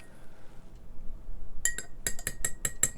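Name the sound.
spoon stirring a cup of tea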